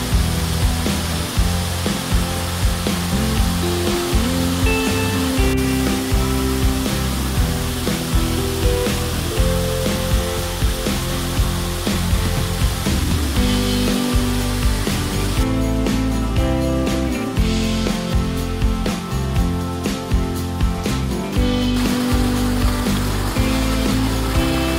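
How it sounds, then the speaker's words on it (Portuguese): Rodriguinho waterfall in the Serra do Rodriguinho near Bananal pours in a loud, continuous roar of rushing water, steady throughout with no talk, with a musical layer also running through it. "Essa é a Cachoeira do Rodriguinho."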